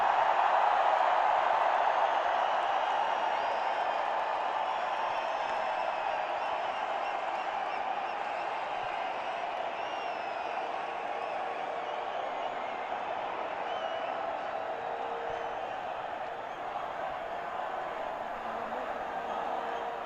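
Large crowd cheering and roaring at a cricket prize distribution ceremony after an India versus New Zealand match, a dense, continuous wash of distant noise holding steady throughout with no pauses.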